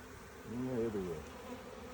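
Honeybees buzz close by during an inspection of a strong hive, a droning hum that swells and dips over a couple of seconds.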